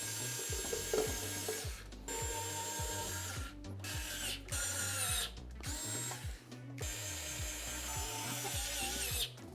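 Cover screws on an e-bike being driven in, a close whirring power-driver buzz in repeated short bursts that rise and stop, with brief pauses between each screw.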